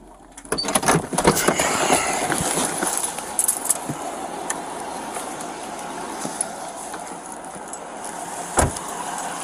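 Ohio State Patrol car reversing at a roadside DUI stop, engine and tire noise rolling steadily with scattered clicks and clunks, a close thump near the start and another toward the end.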